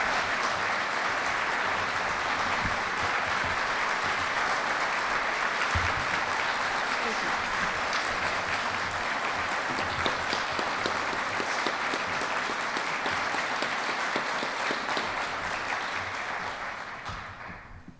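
Sustained audience applause welcoming Jo Haldeman at the Nixon Library, a dense, steady clapping from a large crowd that holds for about seventeen seconds before tapering off at the end.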